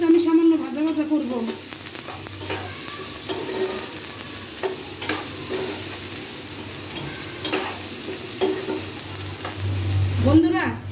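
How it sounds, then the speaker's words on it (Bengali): Chopped onion and green chilli frying in oil in a karahi, a steady close sizzle with scraping stirs and a few spatula knocks throughout. "এখন পেঁয়াজটা আমি সামান্য ভাজা ভাজা করব।"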